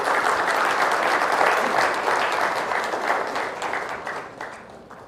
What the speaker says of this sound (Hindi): तो एक बार जोरदार तालियां खुद के लिए।